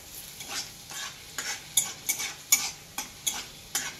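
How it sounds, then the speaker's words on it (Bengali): Garlic and dried chilli frying in hot oil while being stirred: a steady close sizzle broken by repeated scraping spatula strokes about every half second, with no talking. "তেল গরমও হয়ে গেছে, রসুন আর শুকনো লঙ্কা।"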